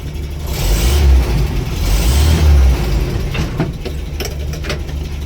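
A Land Rover Series IIa engine fires up and runs, its loud low rumble swelling twice in revs before settling into a steady idle, with a few clanks and knocks near the end.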